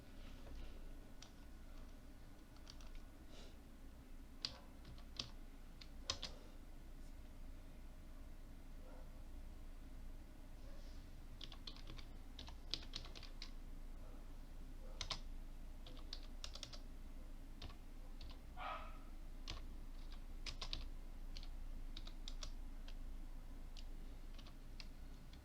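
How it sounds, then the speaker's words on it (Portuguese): Typing on a computer keyboard while entering a search into a web browser, a steady stream of light, irregular key clicks at close range over a low background hum, with no talking. "vamos digitar isso aqui no navegador"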